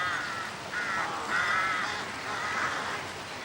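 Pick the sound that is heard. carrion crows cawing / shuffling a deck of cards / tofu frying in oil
carrion crows cawing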